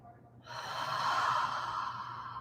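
A yoga breathing exercise: after a brief pause comes one long, forceful breathy 'ha' exhale, close and fairly loud, sustained to the end.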